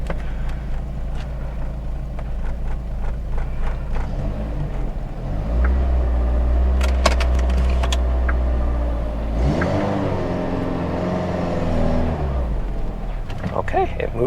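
A Volvo 480 idles and rumbles low while reversing on a driveway, with the engine note lifting and falling across the run and a voice speaking over it.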